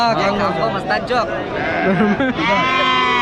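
Several village goats bleat loudly and repeatedly nearby at a goat market, their wavering cries overlapping amid people chattering in the background.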